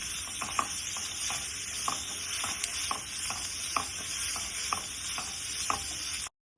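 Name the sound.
chicken masala being fried on low flame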